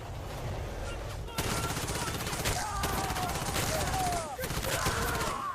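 Rapid bursts of automatic gunfire and scattered shots from the Call of Duty mobile video game crackle over game sounds, with a sharp onset partway through and steady firing afterward.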